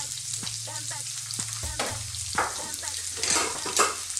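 Sliced onions fry in a pan with a little oil for a lasagna meat sauce, making a steady close sizzle broken by occasional stirring scrapes and clacks.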